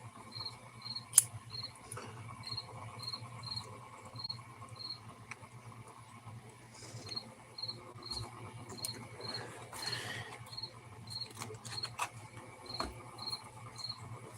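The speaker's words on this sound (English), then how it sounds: "Fucking crickets are getting cold. Hear them chirping." Crickets chirp in steady, evenly spaced pulses, fairly faint, over a quiet background with a few soft taps and rustles.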